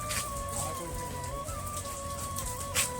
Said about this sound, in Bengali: মোটামুটি এখন বৃষ্টি পড়ছে